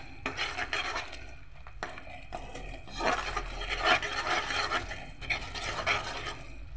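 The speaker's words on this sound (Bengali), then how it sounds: "এখন এই মশলাটাকে আমি একটু কষিয়ে নেব।" A turmeric spice paste is stir-fried in oil, with a spoon scraping and rubbing against the pan in repeated strokes under a soft sizzle, close and fairly quiet.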